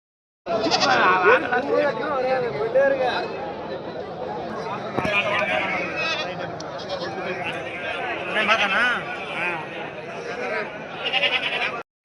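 Goats bleat over and over, near and loud, in the busy crowd of a goat market at Mecheri in Salem district, with people talking throughout.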